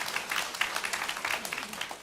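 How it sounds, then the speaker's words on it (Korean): A church congregation gives a brief round of applause during a Sunday service, a fairly soft, even patter of many hands clapping with no voices over it. "한번 박수 한번 보내주세요"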